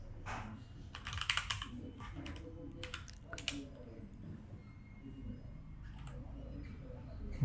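Code typed on a computer keyboard for a Flutter app, heard as close bursts of clicky keystrokes in short clusters separated by quieter gaps, with soft clicks near the end.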